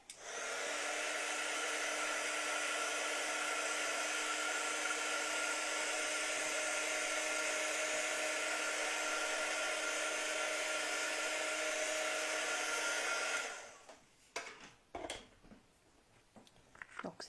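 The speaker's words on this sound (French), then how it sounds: "C'est ce que je vais faire avec mon heat gun. Je vais venir sécher un peu" A heat gun blows steadily and loudly to dry ink on a handmade card, a continuous whooshing hiss running alone for about thirteen seconds before cutting off, followed by a few faint handling knocks.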